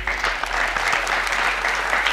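Studio audience of a quiz show applauds, a steady, close burst of clapping under a low hum.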